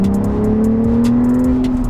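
A car engine rises steadily in pitch as the driver blips the throttle to rev-match a gear change, a smooth, continuous hum heard from inside the vehicle with no speech.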